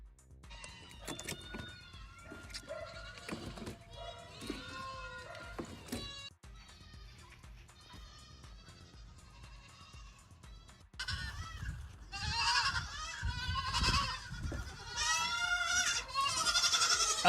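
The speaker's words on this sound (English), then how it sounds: "We went from the goat to a bunch of goats." A bunch of goats bleat in overlapping, wavering cries, sparse and spaced at first, then a denser, louder chorus crowding in near the end.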